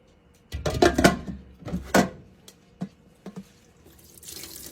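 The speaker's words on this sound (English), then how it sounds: "I can drain off all the water that I just put in there again." Water pours out of a pot used for boiling eggs into a kitchen sink, coming in a few loud, close splashing gushes that trail off into scattered drips.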